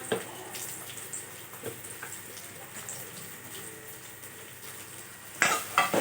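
Onions sauté with curry leaves in a pan for paneer masala, giving a soft continuous sizzle broken by scattered stirring scrapes and a louder clatter near the end.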